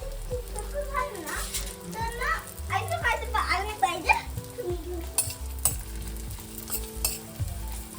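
Food frying in a pan for a quick home dessert, a steady sizzle with stirring and pan clatter, mixed with a child and an adult talking and playing in the kitchen.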